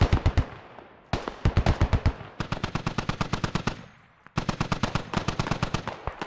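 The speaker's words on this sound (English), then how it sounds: "just adding suppression for INS forces to roll down the hill. Pretty wide suppression fire there." Bursts of machine gun suppression fire in the military shooter game Squad, laid down for insurgent forces moving downhill: rapid, loud, evenly spaced automatic shots in several long volleys separated by short pauses.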